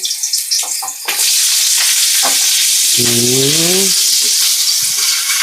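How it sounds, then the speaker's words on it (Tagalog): Food drops into hot oil and sets off a loud, steady sizzle that fills the rest of the scene up close, with a brief voice heard over the frying. "Kailangan mo ng iprito bago mag-gisa"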